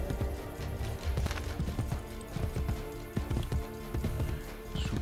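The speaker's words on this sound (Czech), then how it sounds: "Jo, takže já si vemu tohle toho koně." Horse hooves gallop in a steady rhythmic clatter in Assassin's Creed Brotherhood, close and continuous with game ambience underneath.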